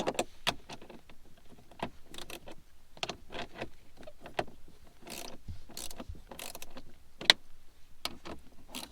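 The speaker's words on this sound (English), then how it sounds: "I'm going to finish them off with the ratchet and the wrenches." A ratchet tightens bolts on a 3rd Gen Tacoma dash, irregular bursts of quick sharp clicks and metallic taps close by, with pauses between strokes and no talk.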